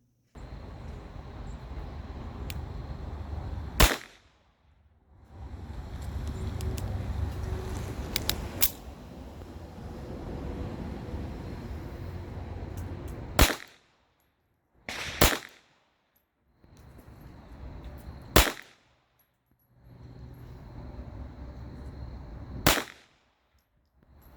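Gunshots at an outdoor shooting range firing handloaded .357 rounds: several sharp, loud single cracks spaced seconds apart, each followed by a brief ring over steady background rumble.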